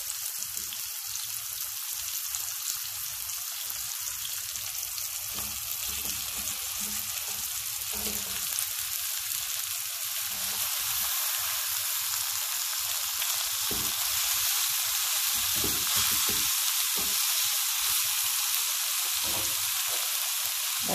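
Chopped onion and red cabbage frying in a pan, a steady loud sizzle with soft crackling and occasional stirring sounds running unbroken for about twenty seconds.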